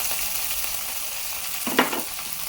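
Onions frying in tempering oil with cumin, lentils, curry leaves and green chili for poha, a constant close sizzle with one brief louder stir scrape near the end.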